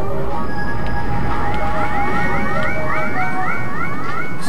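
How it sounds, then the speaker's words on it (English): A siren wails repeatedly in the Super Mario Galaxy video game on the Nintendo Wii, a steady run of rising alarm tones over a dense rumbling game background. "God, I'm getting so sick of that siren noise."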